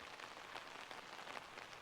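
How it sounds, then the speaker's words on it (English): Rain falls in a backyard vegetable garden in Australia as a soft, even hiss of patter, faint and continuous throughout, with no talking. "We've finally got some rain over the last couple of days."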